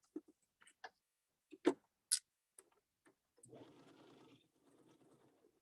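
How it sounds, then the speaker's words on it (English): A sewing machine stitches along the edge of a fabric face mask made from a scarf, running in a steady burst of a second or so after several sharp isolated clicks and taps, then continuing more quietly. "We're only sewing the mask right now."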